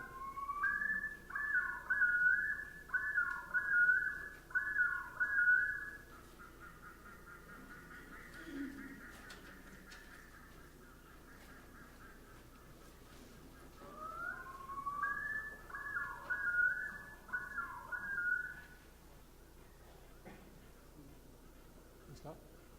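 A recorded wild bird's complex, repeated call is played back in two bouts of rapid, warbling whistled phrases, with a quieter stretch between them, clear and fairly close.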